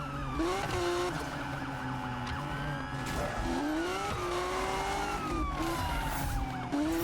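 Wailing police sirens sweep up and down over engine roar and tire noise, several overlapping, in a busy driving game scene.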